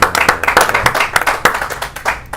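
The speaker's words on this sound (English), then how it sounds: "Can I get a clap real quick if you've lost a friend to an opioid inside this studio?" A small studio audience claps in scattered, uneven strikes, close and fairly loud, with no voices over it.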